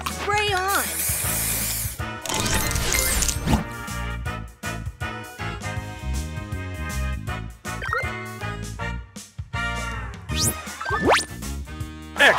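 Spray booster effect in the Color Crush Match Masters mobile game: a hissing spray burst rises over dense, busy game music with chimes and jingles, loud and continuous throughout, with a voice speaking over it.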